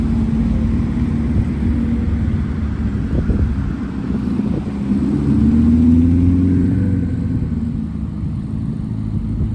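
Corvette test cars pull away at low revs, a steady mid-pitched engine rumble with a gentle rise as one accelerates slightly, held at moderate distance throughout.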